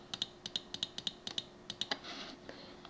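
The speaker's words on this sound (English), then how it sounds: "using the delete key on the keyboard until only one space remains" Repeated presses of the delete key on a computer keyboard: a series of sharp, close plastic clicks, mostly in a steady rhythm with brief pauses, alone and without talk.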